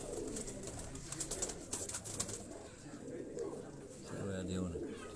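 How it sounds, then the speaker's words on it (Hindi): A domestic pigeon coos softly at close range in a few low, repeated phrases, partly under someone talking nearby. "ये जरा थोड़ा सा कबूतर करीब में है।"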